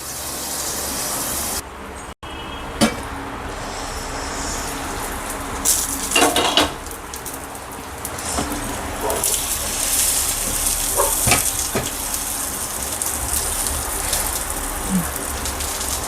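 Brinjal slices fry in a pan for a crispy garlic fry, giving a steady, rain-like crackling sizzle with a few sharp clinks and pops scattered through.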